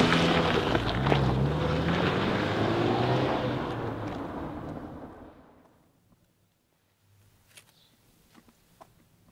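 A car is driven away, its loud engine roar and road rumble fading steadily over several seconds until near silence, followed by a few faint distant sounds.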